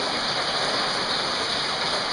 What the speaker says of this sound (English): Man, is the rain coming down.